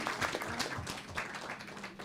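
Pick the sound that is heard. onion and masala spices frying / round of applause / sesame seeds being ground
round of applause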